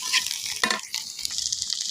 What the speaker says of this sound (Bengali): আমাদের মরিচ পেঁয়াজ রসুন আর চিংড়ি মাছ কিন্তু এই দেখুন কি ভাজা হয়ে গেছে